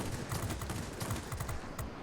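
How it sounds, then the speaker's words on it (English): Rapid 37mm cannon fire and hits in the World of Warplanes flight game, aboard a JL-1A-37 plane, a dense continuous burst of booming shots lasting the whole moment with steady loud rumble. "Ah, when the 37mm cannon hits, it's so good."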